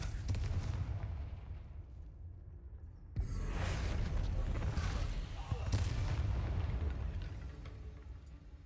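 Confringo spell explosions in Hogwarts Legacy, heard as deep booming blasts with rumbling low end, a sharp burst a third of the way in followed by sustained explosive roar, under game sound.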